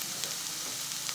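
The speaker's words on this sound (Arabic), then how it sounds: "وسوف أبدأ بتحريكه جيدا مع البصل على هذه الطريقة هذه حتى يطيب ليا مزيان" Chicken frying with onions in a pan, stirred steadily, giving a soft continuous sizzle that holds even throughout with faint scraping pulses and no talking.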